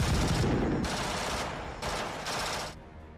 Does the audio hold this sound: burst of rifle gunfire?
yes